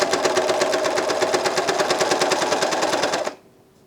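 An Elna 792D serger stitching a t-shirt shoulder seam runs at a fast steady rhythmic whir, loud and close, then stops abruptly near the end, leaving quiet.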